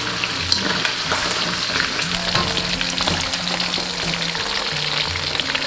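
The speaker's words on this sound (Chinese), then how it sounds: "一定要把猪脚这个表皮炸得焦焦的，把它油脂炸出来" Pig trotters deep-frying in hot oil until the skin crisps, a loud continuous bubbling sizzle with crackles and some low hum beneath, close and without speech.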